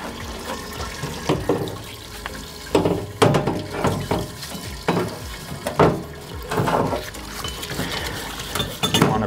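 Water splashes and sloshes in uneven bursts in a parts cleaner as grit is washed off motorcycle suspension parts, close and moderately loud, with faint clinks of metal.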